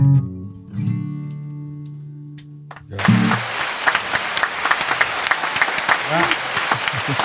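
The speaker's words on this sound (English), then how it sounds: "a round of applause" Applause from a small crowd packed inside a trailer after a live music performance at an outdoor arts and trails event breaks out suddenly after a sustained musical chord fades, then continues as close, lively clapping with scattered cheers.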